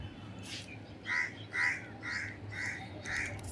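A crow caws repeatedly outdoors, about five or six harsh calls in a loose steady rhythm, moderately close and clear over a quiet low background.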